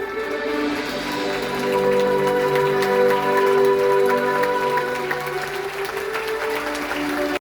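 An audience at a screening of a documentary about Pekak Made Taro breaks into sustained applause, a dense, even wash of clapping that holds steady throughout and stops abruptly at the end, with no voices on top.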